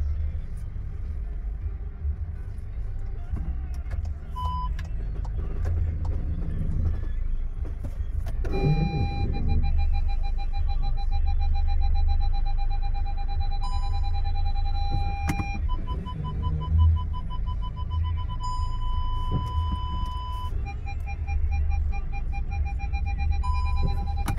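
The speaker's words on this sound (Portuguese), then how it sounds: "Estamos em uma baliza e vamos sinalizar para o carro sair sozinho." A 2024 Volkswagen Taos Highline pulls itself out of a tight parallel parking spot using Park Assist, with a low engine rumble and hum throughout and a series of steady electronic parking-sensor beeps starting partway in, with no talk.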